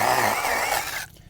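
Chainsaw cutting into dirt while hollowing out a whisky barrel for a beehive: a close, loud, gritty buzzing roar for about a second, then the engine drops away abruptly.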